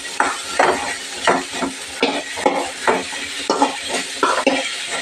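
A utensil stirs and scrapes in a pan as turmeric is mixed into okra curry, with soft rhythmic strokes repeating about every half second over a faint sizzle.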